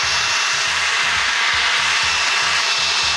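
Leaf blower clearing pebbles off a small tiled surface in a garden, a loud, steady whooshing roar with a low engine pulse throbbing rhythmically underneath, running without a break.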